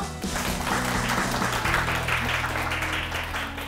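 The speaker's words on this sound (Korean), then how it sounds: "황다혜 대표님을 큰 박수로 맞이해주세요." Audience applause greeting a woman startup founder as she is welcomed onstage at a Korean lecture show, a dense steady wash of clapping with music-like tonal bands underneath, loud and continuous throughout.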